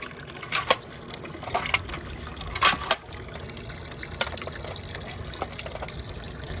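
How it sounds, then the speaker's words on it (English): Water drains from unplugged aquarium filters in a reptile room, running as a soft, steady trickle broken by several short gurgling gushes. The sound is faint and close, with no voices. "Let the filters empty of their water."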